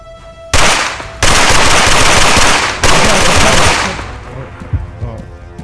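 Loud, close bursts of automatic gunfire in the video game Arma III, three long sustained volleys with brief gaps, then trailing off into quieter scattered shots.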